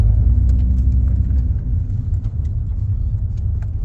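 Nissan Pulsar N14 with intake modifications, engine droning and rumbling steadily close by as it pulls under acceleration, with no talk over it.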